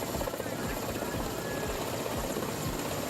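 A military helicopter hovers low over an airfield, its rotors beating in a loud, rapid, continuous thump with dense engine roar close by.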